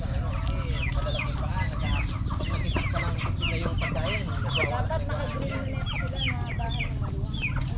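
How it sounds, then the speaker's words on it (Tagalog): Dong Tao chickens, the dragon-feet breed, cluck repeatedly amid a busy flock, with rooster-like calls mixed in over a steady low rumble of farmyard background. "pure talagang dungtaw."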